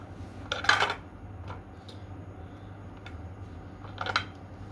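A knife scrapes the peel off frozen ginger taken from a deep freezer, giving two short, crisp scraping bursts a few seconds apart over a steady low background hum.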